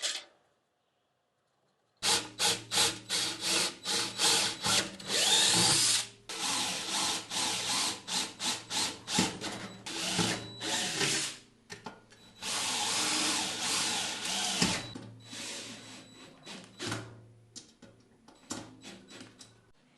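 Power drill boring holes through metal to mount a contactor in a 1956 Jeep CJ5 electric conversion, heard as repeated loud bursts of drilling with short pauses between them, close up and without talk.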